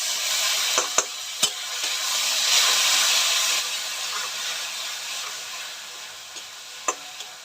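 Spice paste with coconut paste sizzling and steaming in hot oil for prawn malai curry, a soft continuous hiss with a few sharp clicks of a spoon or pan.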